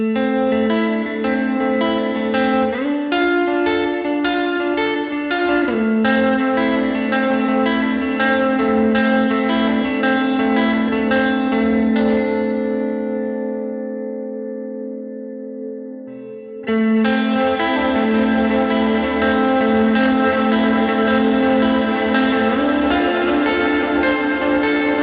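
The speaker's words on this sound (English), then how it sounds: "it starts at kind of a medium hall and goes all the way up to more of a cathedral style reverb with a lot of bright early reflections" An electric guitar is played through an EarthQuaker Devices Ledges reverb pedal set from medium hall toward cathedral, with repeated chords and notes ringing into a long shimmering tail that decays, then the playing resumes.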